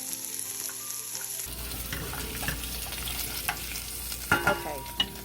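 Onions frying in hot oil in a pot, a steady close sizzle with occasional stirring scrapes and clinks toward the end, heard alone without speech.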